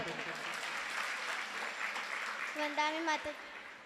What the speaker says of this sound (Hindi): सबसे पहले इतनी छोटी सी बच्ची के लिए ताली तो बजा दो।